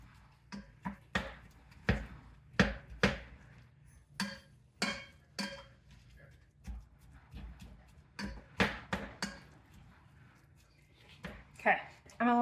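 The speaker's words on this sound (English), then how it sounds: "Breaking up the sausages." Sausages being broken up in a pan with a utensil while cooking a budget family dinner, producing irregular close taps and scrapes spaced a second or so apart over a quiet background.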